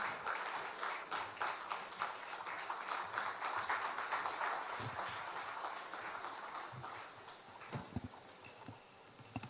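An audience applauding to welcome Ghana's Vice President Alhaji Dr. Mahamudu Bawumia at a formal launch event, dense rattling claps that hold steady, then thin out into scattered individual claps near the end.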